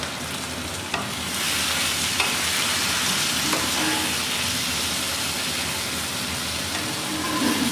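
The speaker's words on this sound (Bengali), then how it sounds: "তো এবার এটাকে নেড়ে চেড়ে মজে আসলে তারপর তোমার মশলা দেব।" Eggplant, broad beans, green chillies and onion frying in a pan with fish head, a continuous loud sizzle with scraping stirring strokes and occasional clinks of the utensil against the pan.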